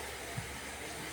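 Electric razor shaving hair during a low fade haircut, giving a steady, even buzzing hum that holds for a brief moment without talk.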